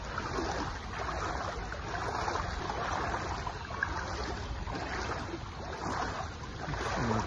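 Flood water sloshes and rushes around a bicycle being ridden through a flooded street in the rain, a continuous turbulent splashing with rhythmic surges, fairly quiet and steady.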